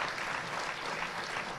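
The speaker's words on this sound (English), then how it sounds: "Applause for them, I think, is really what we need to hear." Audience applause at an indoor presentation, a dense steady patter of many hands clapping at even loudness throughout the short burst.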